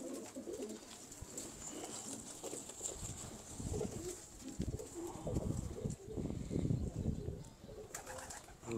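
Caged pigeons coo softly in low, rolling calls that repeat through the stretch, fairly quiet and slightly distant, with faint rustling around them.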